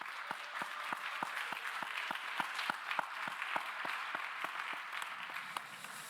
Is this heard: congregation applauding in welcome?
yes